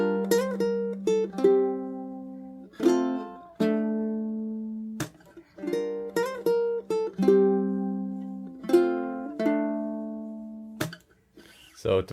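Close, clear low-G ukulele fingerstyle playing, with plucked notes ringing out and then decaying, and repeated sharp strums and chunks in a steady rhythm across several bars, no voices.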